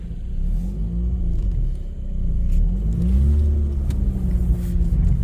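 A 2009 Mazda RX-8 rotary engine runs under load in gear with the defrost and AC compressor on, a loud, close, steady low rumble with slight rising and falling swells and no voices.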